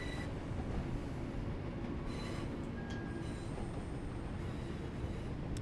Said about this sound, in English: Oh, do a bit of braking.